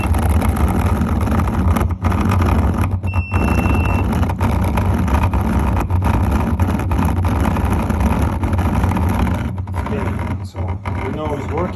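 The pump motor of a 2021–2022 Intex spa heater runs with a loud, steady, close-up hum that barely changes across the whole stretch.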